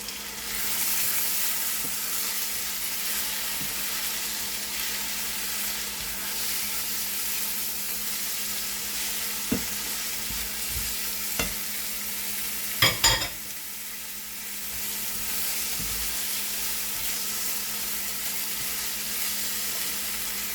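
Finely chopped capsicum frying in a pan for a mixed vegetable paratha filling, a steady soft sizzle with a few sharp spoon-against-pan clinks and scrapes as it is stirred, no talking.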